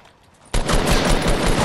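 Shotgun fire in Fortnite, a sudden loud onset after near silence followed by rapid overlapping blasts that keep going densely to the end, with no talk.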